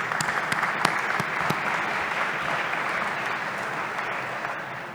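At a policy conference on implementing the Data Governance Act and the Data Act, the audience applauds the panel, a broad even wash of clapping with a few sharper close claps early, tapering slightly at the end.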